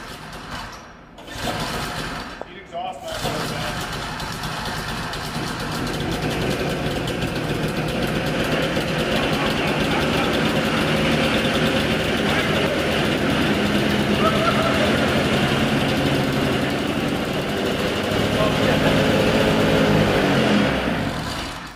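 A 1970 Ski-Doo Olympique 399 snowmobile engine sputters, then catches and settles into a loud, steady, buzzing two-stroke idle nearby, while voices are faintly heard early on.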